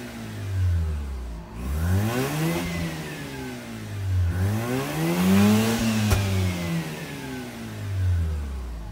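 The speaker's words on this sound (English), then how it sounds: "I think I'm getting misfire right now" A Mazda RX-8 rotary engine with a faulty crankshaft position sensor and a rough idle revs up and falls back several times, loud and close, with a slightly uneven, misfiring tone.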